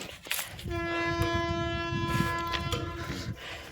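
A train passes nearby, sounding a long, loud horn blast over the heavy rumble and clatter of its cars.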